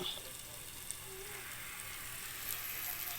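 Tomatoes sauté in a hot pan for a Bisaya-style ginisang bagoong isda, giving a steady, even sizzle with faint crackles close by and no pauses.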